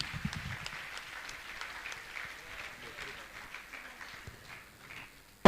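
Scattered, moderately faint audience clapping at a Jain religious gathering with a monk's question-and-answer session, continuing unevenly before a sudden loud burst right at the end.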